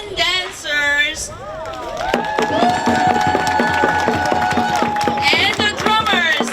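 A crowd cheers and claps for lion dancers and drummers at an outdoor memorial event, with shouts and whoops over steady rhythmic drum beats and clapping, fairly loud and close.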